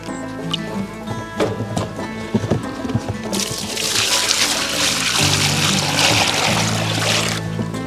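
Water pours and splashes into a trough for pigs and piglets in a winter greenhouse, starting with scattered knocks and rustling before a steady rushing pour takes over for the last several seconds.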